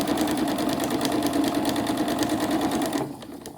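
A sewing machine runs at a slow, steady pace sewing a drawstring bag, its close, even mechanical whir and rapid needle ticking continuing before stopping abruptly near the end.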